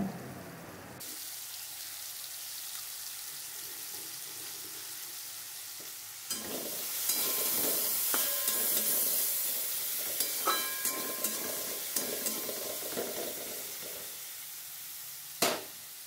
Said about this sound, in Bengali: পেঁয়াজটা দিয়ে ভালো করে আমি ভেজে নেব